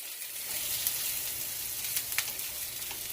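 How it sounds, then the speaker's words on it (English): Rice and onions searing in a hot pan, a continuous gentle sizzle at close range, broken by a few light scrapes and clicks of stirring, with no voices. "I'll just stir it around like this until the onions release their flavor into the rice"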